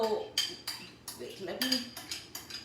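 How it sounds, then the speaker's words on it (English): Food being scraped off bowls in a home kitchen, a series of separate clinks and scrapes of a utensil against dishes, close and fairly quiet. "I scrape everything off the bowls"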